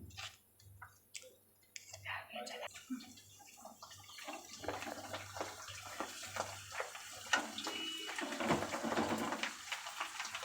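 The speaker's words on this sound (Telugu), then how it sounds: "ఆయిల్ అయితే ఫ్రై అయిపోయింది మనం ఒక్కొక్కటిగా ఈ పానీపూరిని ఇందులో వేసేసుకుందాము" Pani puri dough rounds dropped one at a time into hot oil on a stove, setting off a crackling, bubbling sizzle that builds and thickens over a low steady hum.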